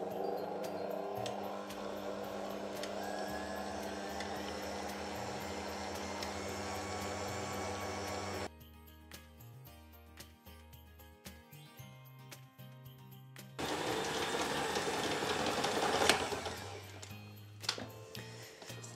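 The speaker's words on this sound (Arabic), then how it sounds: "غادي ندوز دابا باش نلونسي العجانه تعجن" Electric dough kneading machine working a waffle batter of flour, eggs and other simple ingredients, giving a steady mechanical whir with a low motor hum, then rattling clinks and a louder churning stretch toward the end.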